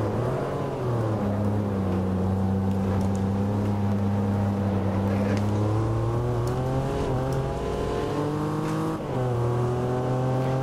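In the racing game Assetto Corsa, a Porsche Boxster with a six-speed manual gearbox drones loudly as its engine climbs through the revs, the pitch rising and dropping with each gear change.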